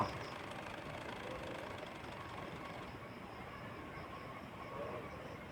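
A sewing machine runs continuously while top-stitching a pillow cover, a dense, even mechanical whir that holds at a steady level throughout without pause.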